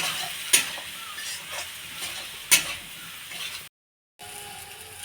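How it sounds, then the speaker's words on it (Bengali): Vegetables stirred in a frying pan with chilli and turmeric, a steady close sizzle broken by two sharp scrapes of the spoon against the pan, then a short gap before the frying hiss resumes. "এখন আবার নেড়ে চেড়ে নেব।"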